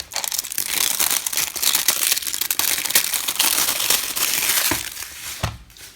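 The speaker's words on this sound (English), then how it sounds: "Let's now open up the packaging." Plastic packaging of a 58-in-1 precision screwdriver repair kit crinkled and pulled open, giving loud continuous crackling and rustling up close and easing off at the end.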